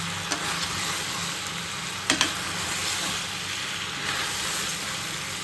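Cooked chicken stirred into a frying chilli chicken sauce in a home kitchen, a steady close sizzle with a few scraping stir clatters, no voices.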